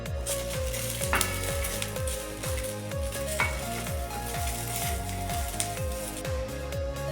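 Onion, garlic and ginger roast in oil in a pan for an egg curry masala, giving a continuous close sizzle with repeated rhythmic scraping strokes of a spatula against the pan.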